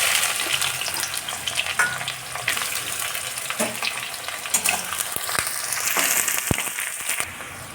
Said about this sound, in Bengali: এর মধ্যে এখন কেটে রাখা পেঁয়াজগুলো দিয়ে দিচ্ছি।